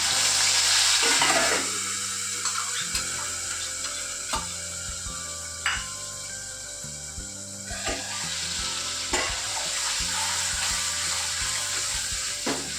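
A ginger, garlic and onion paste with asafoetida hits hot oil in a pan for a bottle gourd kofta curry, giving a loud, continuous close sizzle broken by repeated spoon scrapes and metallic knocks against the pan.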